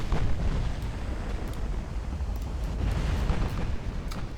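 Naval shells hit a warship in Ultimate Admiral Dreadnoughts, a low rumbling roar of explosions and distant booms, fairly faint and steady throughout with no voices.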